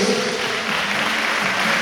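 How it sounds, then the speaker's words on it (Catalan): Audience applause for the Club Bàsquet Vic team at a youth basketball tournament in Sant Julià de Vilatorta, a steady dense clapping that fills the whole moment without letup. "Un aplaudiment, Club Bàsquet Vic."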